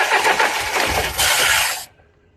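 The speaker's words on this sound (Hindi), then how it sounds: "इंजन एक बार स्टार्ट हुआ, बंद हो गया।" A petrol engine cranks and catches with a loud, rough burst, runs briefly at full roar and then cuts out abruptly into near silence.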